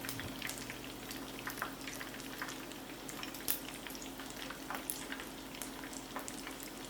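Chicken pieces fry in hot oil, a faint, steady bubbling crackle with scattered small pops throughout, quiet and close.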